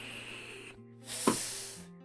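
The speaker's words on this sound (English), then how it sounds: "That is the sound of paper crumpling." A paper-crumpling sound effect from the video game Dark Cloud: a short burst of dry, rustling noise with one sharp crackle in the middle, rising over steady, low in-game background music and then fading back.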